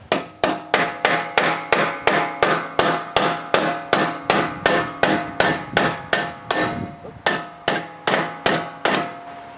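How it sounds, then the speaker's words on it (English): A hammer strikes a bolt over and over to drive out a Troy-Bilt Horse tiller spindle shaft, steady rhythm, about two ringing metallic clangs per second, loud and near, with no voices. "just hit that bolt with a hammer, and then the actual rod comes out."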